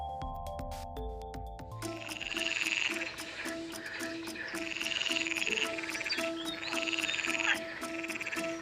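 Frogs croak in a dense, steady chorus of rasping calls that swells and holds close and loud after a brief tonal opening.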